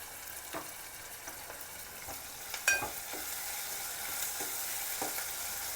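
Onions frying in a pan for a brinjal curry, a soft steady sizzle with occasional stirring clicks and scrapes, quiet and close with no talk.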